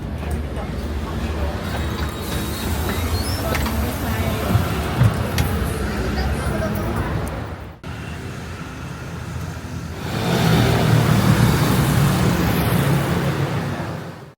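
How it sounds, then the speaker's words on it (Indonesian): Riding an air-conditioned public bus in Bangkok: continuous engine and road rumble with a brief dip partway through, then a louder surge, with voices heard over it. "Ini kita cobain bus umum yang ada di Bangkok."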